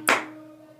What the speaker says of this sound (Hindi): तो आप उसके साथ ताली बजाने की कोशिश करें